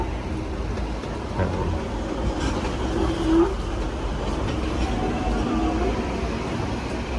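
The Hong Kong Peak Tram hill railway gives off a steady low rumble, with a faint metallic squeal rising briefly in the middle. The mechanical hum continues throughout and no one speaks.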